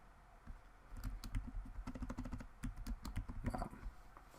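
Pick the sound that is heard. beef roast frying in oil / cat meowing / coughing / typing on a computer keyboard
typing on a computer keyboard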